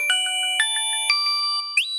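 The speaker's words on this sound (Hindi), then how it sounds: "कुछ तो घंटी बज गई." A video game bell rings as a quick series of bright, clear chime tones, several dings in an uneven rhythm, with a rising, ringtone-like flourish at the end and no talking.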